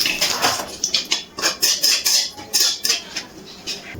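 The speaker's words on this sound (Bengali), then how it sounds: "ফোড়নটা একটু কিছুক্ষণ নাড়াচাড়া করে ভেজে নেব তেলে।" Whole spices—dried red chillies, bay leaves and cumin seeds—stirred in hot oil in a pan, with rapid scraping and clinking of a utensil against the metal and a soft crackle underneath, close and steady.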